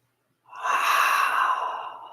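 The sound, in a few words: slow deep breathing in and out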